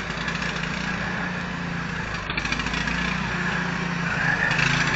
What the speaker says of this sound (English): Got the snowblower running.